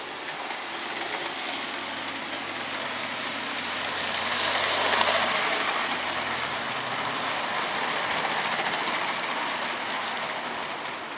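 A model train with a 44 class locomotive rumbles and clatters steadily along its track, with a broad hiss that swells toward the middle and then eases, no voices present.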